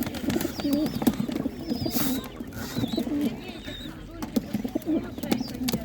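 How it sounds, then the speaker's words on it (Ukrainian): Pigeons coo in low, repeated throaty calls close by at an animal market in Khrepli village, Ivano-Frankivsk region, Ukraine, amid a crowded outdoor bustle with some chirping and a voice in the background. "Такі голуби."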